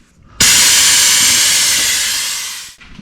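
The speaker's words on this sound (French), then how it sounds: "on va essayer de la vider par aspiration parce que malheureusement il n'y a pas de bouchon de vidange" A suction pump draws oil out of a BMW X3 F25 transfer case that has no drain plug, giving a loud steady hiss that starts abruptly, holds for over two seconds, then cuts off.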